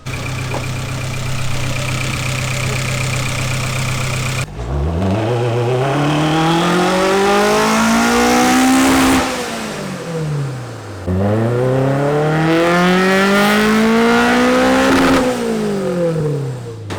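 A Toyota AE86 engine revs hard on a dyno, idling loudly before sweeping up through two long, rising pulls, each dropping back sharply, close and very loud.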